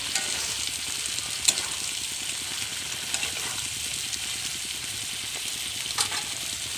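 Fish frying in a pan, a steady close sizzle and crackle with a few sharp clinks of a utensil now and then, no voices.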